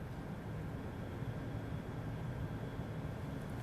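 Rocket engines ignite for the launch of a Chinese space station module, heard as a steady, distant broadband roar at low level with no clear breaks.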